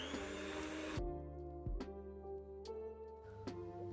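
An electric mixer beats plum cake batter with caramel syrup, a steady whirring drone that stops abruptly after a second, leaving a quieter motor hum broken by a few faint clicks and knocks.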